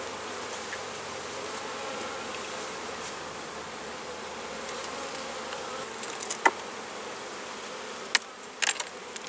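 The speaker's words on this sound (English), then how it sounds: "See if you see the bee right in the middle here with nice sacs full of pollen" Honeybees drone in a dense, steady buzz around an open hive frame during a warm-weather inspection, close and continuous, with a few sharp clicks and knocks toward the end.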